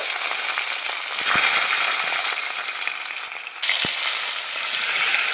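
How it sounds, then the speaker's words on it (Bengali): Rohu fish heads rubbed with turmeric and salt frying in hot oil in a kadai, a loud dense continuous sizzle that swells when stirred, with a couple of sharp knocks. "হলুদ নুন মাখানো রুই মাছের মাথাগুলো ভেজে নিচ্ছি"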